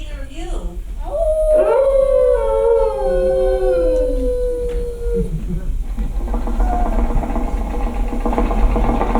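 An animatronic dog in the Carousel of Progress stage show at Magic Kingdom, Walt Disney World lets out one long, wavering howl that slides downward and fades, over a low mechanical hum and light background noise.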